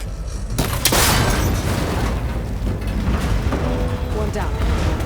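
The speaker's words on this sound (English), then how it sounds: "That connector's holding the cables together. It should break if I shoot it." A shot breaks a cable connector in Horizon Forbidden West, giving a loud boom and mechanical crunch near the start, followed by continuous game noise and rumble with a voice talking.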